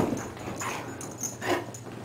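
A small dog whimpers softly indoors, letting out a few faint, brief high whines spaced through a quiet room.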